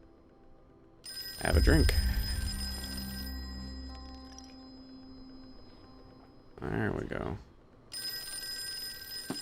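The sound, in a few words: telephone ringing in Call of Cthulhu video game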